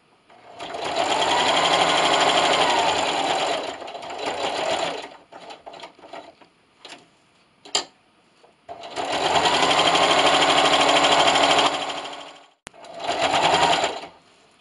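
A sewing machine runs a straight stitch on scrappy pot holders, with stitch length set at 3.5. It plays as two long, steady bursts of stitching, loud and close, with a short run at the end and quiet gaps with small handling clicks between.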